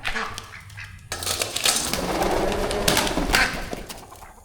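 Pigeons or doves at a pig farm give a burst of cooing and flapping, mixed with other fowl honks and clucks, busy and fairly close with no talk.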